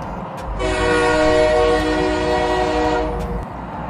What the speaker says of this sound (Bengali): আমাদের ট্রেন শালিমার থেকে ছাড়লেও নির্ধারিত সময় প্রায় আধ ঘন্টা পরে